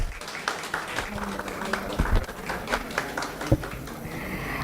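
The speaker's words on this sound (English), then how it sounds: "A round of applause, please, everyone." An audience at an AI leadership summit claps during a felicitation ceremony, producing a modest, distant-sounding patter of applause in a reverberant hall with a few sharper claps standing out.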